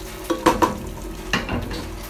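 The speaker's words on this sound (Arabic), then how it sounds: "حطينا الزعفران ومعلقتين كركم كبار ونقلبهم" Spoon stirring saffron and turmeric through butter and oil in a pot, a few soft scraping strokes with a faint sizzle beneath, close and fairly quiet with no talking.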